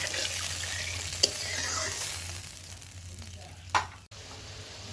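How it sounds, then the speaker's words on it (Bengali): Fish curry sauce of yogurt and mustard bubbles in a pan, a soft steady simmering hiss with a couple of sharp utensil knocks, close and fairly quiet. "দেখুন ফুট ধরে গেছে"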